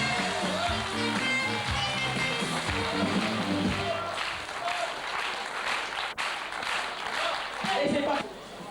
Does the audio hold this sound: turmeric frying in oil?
no